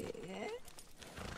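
Horse hooves clip-clopping in the Red Dead Redemption roleplay game (RedM), a Standardbred racehorse, with a brief whinny-like tone early, steady and close amid game ambience.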